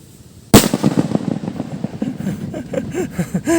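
A single loud 20-gram firecracker blast goes off suddenly, followed by a rumbling echo and crackling tail that fades over a few seconds.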